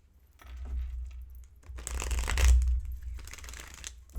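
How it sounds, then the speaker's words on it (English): Tarot cards being shuffled by hand in a few riffling bursts, close and crisp, with short pauses between passes. "I'm going to shuffle those energies back in. Let's shuffle."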